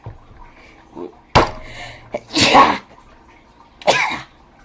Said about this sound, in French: J'aime le poivre, mais ça me fait éternuer